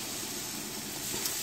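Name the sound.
large Argentine prawns grilling in melted butter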